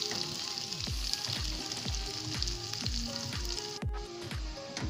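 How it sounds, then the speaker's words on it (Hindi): Onions frying in hot oil for an okra chicken curry, with a steady close sizzle and repeated stirring scrapes about once a second throughout. "प्याज को हम फ्राई कर लेंगे।"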